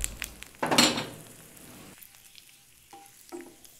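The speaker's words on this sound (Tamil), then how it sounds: "எண்ணெய் சூடானதும் காஞ்ச மிளகாயை முழுசாக அப்படியே போடுங்க" Hot oil bursts into a loud sizzle and crackle as whole dried red chillies go in, then settles to a quieter steady frying hiss with a couple of small clinks.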